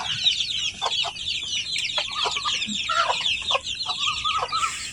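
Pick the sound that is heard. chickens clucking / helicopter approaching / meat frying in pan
chickens clucking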